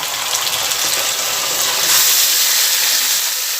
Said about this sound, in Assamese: এতিয়া মই মাংসটো ইয়াত ঢালি দিম, যিহেতু তেলটো পূৰা গৰম হৈ গ'ল, পিঁয়াজটো ৰঙা পৰিছে